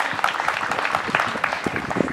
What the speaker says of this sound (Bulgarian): Моля вашите аплодисменти за него.